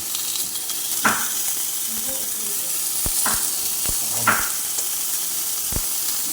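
Tamban sardines frying in a pan, a constant close sizzle and crackle of hot oil with a few sharp clicks and knocks of a utensil against the pan.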